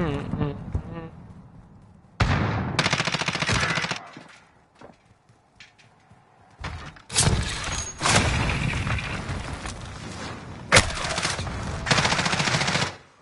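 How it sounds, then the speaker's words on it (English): Bursts of rapid automatic gunfire aimed at the player in a video game, loud and near, coming in several sustained volleys separated by quieter gaps with a voice talking between them. "Everyone's shooting me, mate!"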